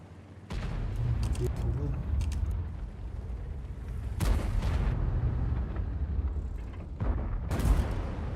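Tank cannon fire in a tank video game: several heavy booming shots with sharp onsets, each followed by a rumbling decay, set against a steady engine drone.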